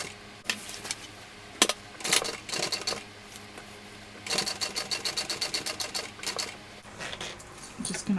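Sewing machine stitching a Verona tote bag, with bursts of rapid mechanical needle clatter that start and stop, the longest run steady near the middle, and sharp clicks between, close up and without talk.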